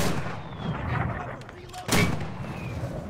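Mortar fire in the video game Enlisted: a sharp, loud blast lands near the middle, set against a continuous rumbling battlefield backdrop with scattered distant booms.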